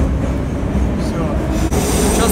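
A Moscow metro train roars steadily through an underground tunnel, with loud low rumble and rattling wheels that continue without a break, and a brief metallic click near the end.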